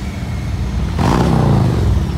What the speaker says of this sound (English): Oh yeah, let's get some engine revs.